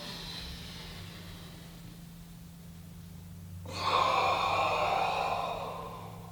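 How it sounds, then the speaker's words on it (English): Deep inhale during a standing breathing exercise for posture: a soft, airy breath rises near the microphone after a quiet stretch and swells into a sustained rush of air over a low background hum. "Inhale."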